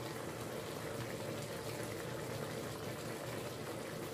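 Ground chicken mixture with quinoa and broth boils in a pot, giving a steady dense rushing bubble that holds evenly throughout, close and continuous without speech.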